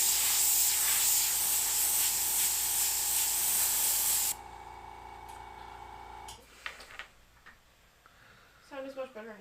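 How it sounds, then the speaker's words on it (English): An airbrush sprays paint in a steady, loud, close hiss for about four seconds, then cuts off, leaving quieter handling clicks and a brief voice near the end. "I'm just going to use 2 airbrushes."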